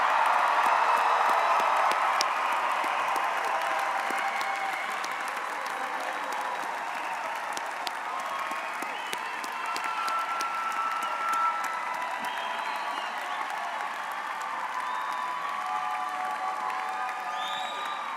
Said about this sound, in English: let's give a round of applause for all our new Panthers